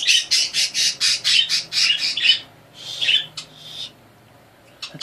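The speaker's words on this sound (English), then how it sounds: "sorry about the birds." Birds squawking loudly and repeatedly in a rapid burst of harsh calls, then a few scattered squawks and a pause, close by with no talking.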